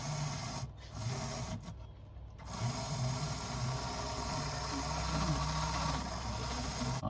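A small oiled electric motor in a Lima N gauge BR Class 81 model locomotive runs with a faint, steady whirring hum, broken by brief pauses early on, with no speech over it.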